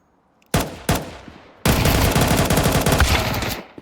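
Gunfire from a Mag-7 shotgun in Counter-Strike 2 during a collegiate match: two sharp, loud blasts a fraction of a second apart, then a sustained burst of rapid shots from several weapons.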